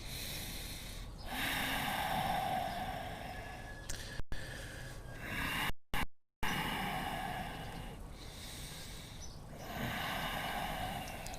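Deep breaths through the nose during a yoga pose, slow inhales and exhales repeating in long even cycles, close and fairly loud with no talking.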